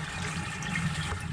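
Water steadily pouring from a homemade swirl filter's perforated return back into a garden pond, a continuous close splashing trickle with no talk.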